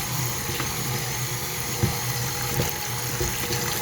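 Water pours steadily and continuously from a tap into a measuring vessel while measuring liquid for cooking dry beans in chili practice, a close, even rushing flow with faint clinks and no talk.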